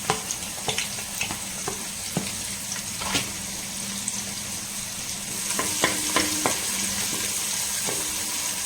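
Onion hitting hot oil with spluttering mustard seeds and cumin, a steady close sizzle broken by sharp pops and crackles, with stirring clinks from a utensil in a pan while cooking a beetroot and banana stem kootu.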